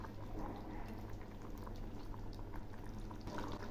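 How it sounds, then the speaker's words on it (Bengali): Bottle gourd curry bubbling steadily in a pot, a soft continuous boil with fine popping and gurgling, fairly quiet and close, with no talk. "ঝোলটা বেশ কিছুক্ষণ ফুটেছে।"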